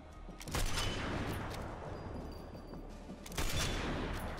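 Gunfire in a shooter video game, bursts of rapid shots crackling in dense volleys, with a heavier burst near the start and another toward the end, loud and continuous, with no voices.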